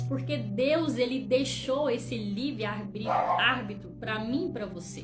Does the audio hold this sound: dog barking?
yes